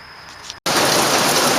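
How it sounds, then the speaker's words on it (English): Rain falls outdoors as a sudden, loud, steady hiss that begins after a brief quieter moment and continues as dense, even patter on surfaces. "And here we go again with the rain."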